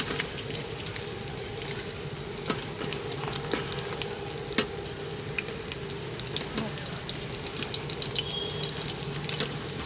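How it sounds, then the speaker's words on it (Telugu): Sliced onions frying hard in hot oil in a pan for a village-style chicken dish, a steady loud sizzle with sharp popping spatters scattered throughout, no talk. "ఉల్లిగడ్డలు అయితే వేస్తున్నాను నేను మీద పడుతుంది"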